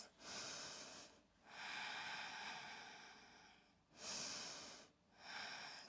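Deep, close breathing held through a pose in a vigorous power vinyasa yoga flow: long, airy inhales and exhales with brief pauses between them, loud and near, with no talking.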